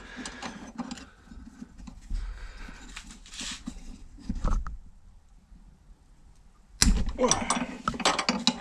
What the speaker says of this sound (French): Donc c'est avec une clé de 12.